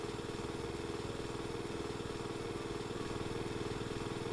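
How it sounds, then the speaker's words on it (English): A jackhammer pounds away at a construction site inside the Animal Crossing video game, a faint, even, rapid mechanical rattle that holds steady throughout with no pauses. "It literally sounds like the jackhammer is in use."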